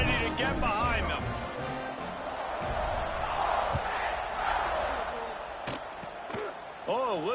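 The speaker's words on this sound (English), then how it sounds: "Set to kick it off, and this crowd now ready to get behind them." Football stadium crowd roaring before a fourth-quarter kickoff, a loud sustained cheer filling the whole clip while a commentator talks over it.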